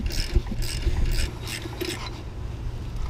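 A ratchet fitted with a 24mm socket turns in repeated clicking strokes to pull a pulley off a 2005 Dodge Magnum 3.5L V6 during timing belt and water pump work, close and fairly loud, with no talking.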